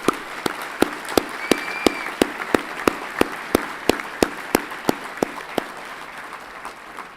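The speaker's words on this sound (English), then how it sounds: "So let's give everybody a round of applause" At an engineering college commencement, sharp claps ring out in a steady, evenly spaced rhythm over a soft hall hiss, continuing for several seconds and easing slightly toward the end.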